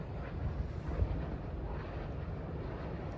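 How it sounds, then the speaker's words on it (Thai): Wind blowing outdoors in Germany buffets the microphone, a continuous low rumbling roar with gusty swells and no speech. "ได้ยินเสียงลมไหมคะ"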